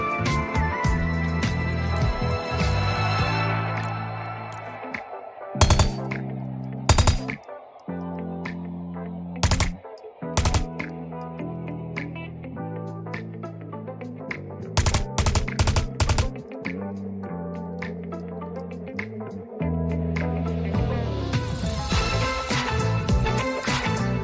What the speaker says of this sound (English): The main difference of this version of the weapon is that it shoots in bursts instead of multiple bullets all at once.